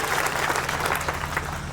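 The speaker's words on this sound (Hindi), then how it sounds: "मैं चाहता हूं एक बार जोरदार ताली बजाएं" Clapping from a large crowd at an outdoor election rally in Bihar, a dense, even round of applause heard close and sustained throughout.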